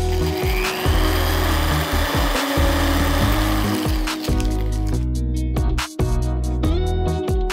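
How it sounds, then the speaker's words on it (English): A drill bores through a taped bundle of small wooden beads, giving a loud, steady grinding and rasping drone with brief dips and catches as the bit pushes through the wood. "drill through them all at the same time"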